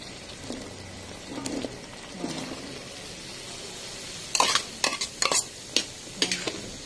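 Chayote and sardines are stirred in a frying pan with a steady sizzle underneath, quiet at first and then sharp scraping strokes of a utensil coming in bursts near the end.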